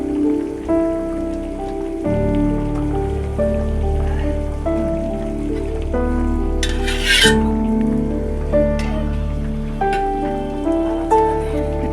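Fish and fish roe fry in a pan with oil, giving a loud, dense crackling sizzle like heavy rain that holds steady throughout, with a brief sharper hiss burst partway through.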